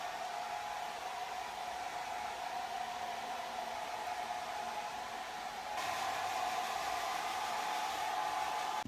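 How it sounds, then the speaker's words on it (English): A hair dryer blows steadily while drying hair, a constant airy whoosh with a faint tonal whine that grows slightly louder and brighter partway through, with no talking. "I'm gonna dry my hair, okay, and I'm gonna show you guys how actually my hair looks like when it's dried."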